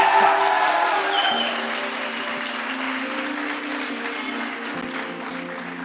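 Congregation at a church service breaks into applause that starts loud and full, then eases to a steadier, softer clapping with a sustained low tone and some voices underneath.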